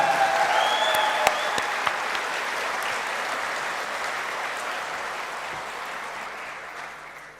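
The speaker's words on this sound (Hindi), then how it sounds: "आप अपने लिए और ये सभी अचीवर्स के लिए एक जोरदार राउंड ऑफ तालियां बजाएं।" Loud audience applause for achievers at a corporate event in Goa, dense clapping from a large crowd with a few sharp claps early, gradually tapering off toward the end.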